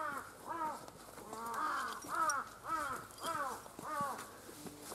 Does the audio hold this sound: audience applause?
no